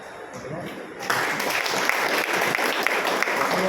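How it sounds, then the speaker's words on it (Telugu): Steady applause from a crowd at a political party meeting, rising in intensity after the first second and continuing dense and even to the end. "ఈ ప్రతిపాదనని మీరు ఏకీకరిస్తే చప్పట్ల ద్వారా తెలియజేయాల్సిందిగా విజ్ఞప్తి చేస్తాను"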